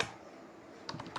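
Keys on a computer keyboard are struck in a short burst of several crisp, close clicks near the end, following a brief fading sound and a quiet stretch.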